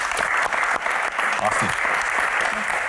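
Audience at a live Q&A session claps steadily, a dense, fairly loud wash of applause with voices speaking over it.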